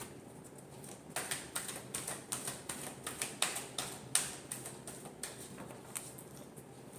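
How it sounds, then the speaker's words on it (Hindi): Tarot cards being shuffled by hand, giving a steady run of quick, soft, close tapping and flicking sounds that lasts for several seconds with no talking. "last shuffle"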